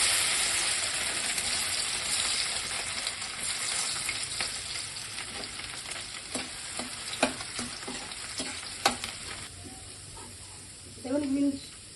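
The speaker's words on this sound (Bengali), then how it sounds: "গাজর আর বিনসটা আগে ভেজে নিচ্ছি।" Carrots and beans fry in a pan for fried rice, giving a steady close sizzle broken by clicking scrapes of stirring that grow sharper toward the end.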